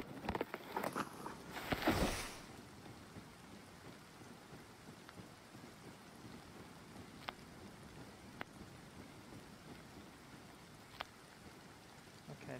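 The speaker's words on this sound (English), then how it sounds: "I have to be careful because I'm in the middle of the rain" Steady rain pours in the survival game Rust, a dense hiss of falling water throughout, with a louder burst of rustling near the start and a few faint distant cracks later on.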